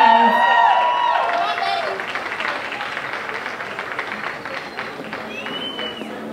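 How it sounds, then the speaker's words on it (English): A crowd at a Cape Verdean gala in Brockton applauds as a singer is introduced, loud clapping and some cheering that settles into steady applause, with a voice over the start. "Give a round of applause, guys."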